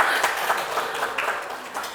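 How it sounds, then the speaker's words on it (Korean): A classroom audience at a school lesson on multicultural students claps in a short, even burst of applause lasting a couple of seconds at moderate loudness. "박수 쳐주세요."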